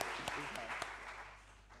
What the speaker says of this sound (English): give a round of applause here.